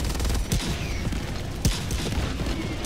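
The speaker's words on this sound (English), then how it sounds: "Everybody light them up with your oh rockets!" Rockets fire at a mech in a large-scale multiplayer shooter, sounding as a dense volley of blasts and rapid gunfire with two sharper booming launches standing out, loud and continuous with no clear talk over it.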